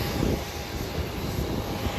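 An airliner engine drones steadily at Hollywood Burbank Airport, a loud, constant broadband roar with no voices over it.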